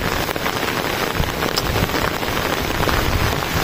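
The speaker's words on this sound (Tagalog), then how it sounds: "Walang tigil ang ulan." Heavy rain pours down steadily, a dense continuous hiss and patter of drops hitting a surface close by.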